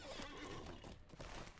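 A horse in the Lord of the Rings Online video game whinnies loudly while its hooves clip-clop underneath, a short, close burst of game sound with no talk.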